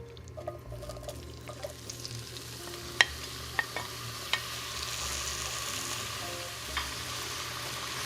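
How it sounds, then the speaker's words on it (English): Tomato, garlic and onion sauté in hot oil with a continuous soft sizzle, broken by a few sharp crackles and pops, steady and close throughout with no talking. "Once your oil heats up for about 30 seconds, you're gonna add your tomato, garlic, and onion."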